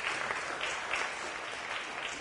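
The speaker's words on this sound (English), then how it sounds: "a round of applause for Shirley" A faint, steady wash of audience applause at a community gathering in Brighton and Hove, distant and even without standout claps.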